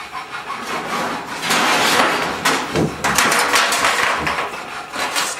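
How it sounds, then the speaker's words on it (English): Sawing inside an old-space art studio, a rough, continuous rasping with a brief pause midway, fairly loud and nearby, heard alone without voices. "Can you hear that? More like sawing."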